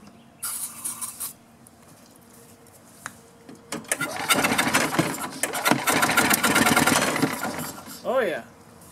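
A golf cart engine primed with starting fluid cranks in short bursts, then catches and runs roughly for several seconds at close range before dying down. A brief voice follows at the end.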